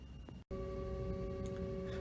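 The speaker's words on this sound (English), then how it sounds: "So this is our 3D printer." A dental 3D printer prints models for a surgical case, giving off a steady mechanical hum with a thin sustained whine that cuts out for an instant before resuming, close by.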